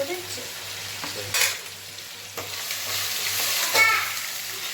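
Chicken pieces frying and being stirred in a pan, a steady broadband sizzle broken by a few louder scraping stirs and clatters, close up with a low hum underneath and no talking.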